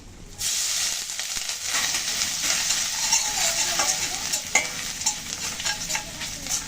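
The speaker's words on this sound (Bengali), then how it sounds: "তেল গরম হয়ে গেছে ফোড়নে দিয়ে দিচ্ছি একটা শুকনো লঙ্কা একটা তেজপাতা দিচ্ছি গোটা জিরা" Dry chilli, bay leaf and whole cumin hit hot oil for a tempering, setting off a loud, steady, close sizzle that continues with light stirring throughout.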